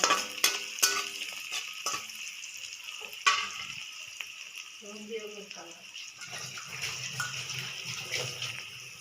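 Carrots and beans fry with onion, garlic and chili while being stirred, giving clinks of a utensil on the pan and a soft sizzle under occasional talk.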